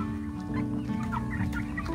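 Chickens cluck softly and repeatedly in a steady background, a few short calls rising above a constant low hum.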